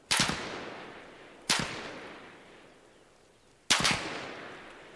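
Gunfire in the military shooter Arma Reforger: three loud, sharp reports spaced over several seconds, each followed by a long echoing decay, with no voices.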